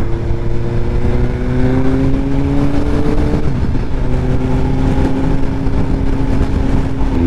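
A Suzuki GSX-S750 motorcycle engine revs on the throttle, with a continuous rising and falling engine drone that is loud and close over steady road noise.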